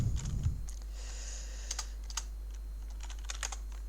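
Someone types on a computer keyboard while coding, producing sparse, crisp clicks in short irregular bursts. A low steady hum runs underneath, and a brief thump comes at the start.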